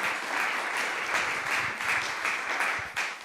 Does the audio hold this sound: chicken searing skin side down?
no